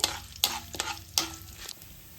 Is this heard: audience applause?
no